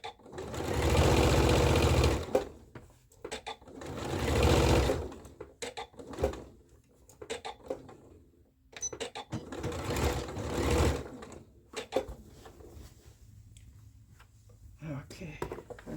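A sewing machine stitches the seams of a dress skirt in several loud bursts of rapid, rattling runs separated by short pauses and small handling noises, close up, with no talking over the stitching.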